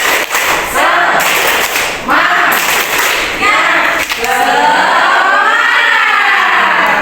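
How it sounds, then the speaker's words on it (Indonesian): A classroom of students doing a rhythmic spirit clap, several bursts of group clapping mixed with voices chanting along, loud and close, ending in sustained cheering. "Tepuk semangat"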